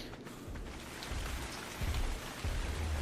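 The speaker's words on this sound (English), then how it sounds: "Oh, rain." Steady in-game rain falling on a surface in Ark: Survival Evolved on the Ragnarok map, a continuous hiss with some low rumbling swells, moderately quiet with no talking.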